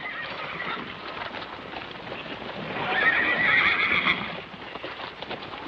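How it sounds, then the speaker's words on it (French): In a western film, a horse gives a loud, drawn-out neigh midway through while hooves clip-clop steadily on the ground throughout, with no voices. "Il te faut un cheval."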